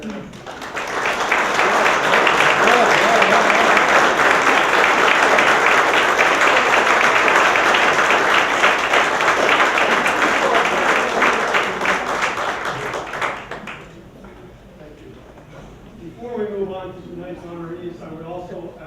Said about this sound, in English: So please stand for a round of applause for the previous Yankee Quill Award.